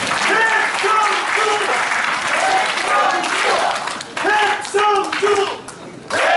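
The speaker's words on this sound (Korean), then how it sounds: "백성규 노담 위원장 다시 한 박수 부탁드립니다." An audience at a party year-end officials' meeting in a wedding hall in Gumi breaks into loud, sustained applause, with voices mixing in over the clapping.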